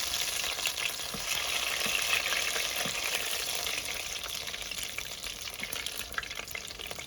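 Bread snacks frying in a pan, a steady bright sizzle of hot oil that carries on evenly throughout, with faint stirring and no voices.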